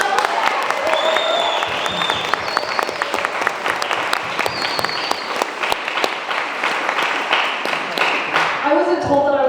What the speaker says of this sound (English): can we just give them a huge round of applause?